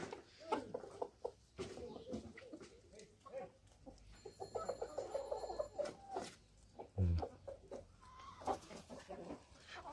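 Chickens set loose in front of a house door cluck and call irregularly near and at mid-distance, with a person talking in the yard and a brief thump partway through.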